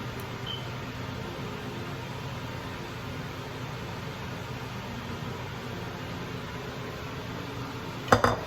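A single brief knock as a cake pan holding flourless chocolate cake batter is tapped on a surface, sounding near and clear at the very end after a long stretch of soft background hiss.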